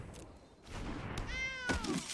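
A single drawn-out cat meow plays as a game sound effect in Magic The Gathering Arena, fairly quiet, with a few soft thumps around it.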